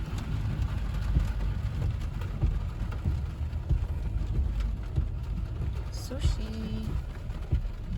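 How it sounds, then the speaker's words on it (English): Steady rain drums on a car during a drive through San Francisco, with road rumble and engine noise underneath as people talk inside the car. "It's just too many raindrops."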